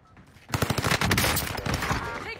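Loud close bursts of rapid automatic gunfire erupt in a video game battle, a quick string of sharp shots followed by sustained rattling fire and echoing reports.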